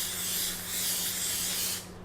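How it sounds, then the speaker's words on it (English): Cooking oil sprays onto cake molds in one steady close hiss lasting nearly two seconds before cutting off. "make sure to spray them really well"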